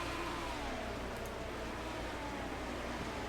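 Midget race cars, Hoosier Midgets at Lucas, roaring around a speedway during a race, a steady loud engine drone with a faint rising tone as a car passes, no voices.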